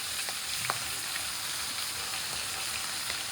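Meat curry bubbling and frying in a pot on a gas stove, a steady close hiss with faint crackles throughout.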